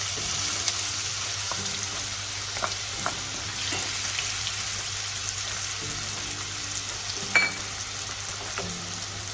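Two small chopped onions frying in hot oil for a drumstick and potato mixed vegetable dish: a constant close sizzle with occasional light clicks and taps from stirring, no speech.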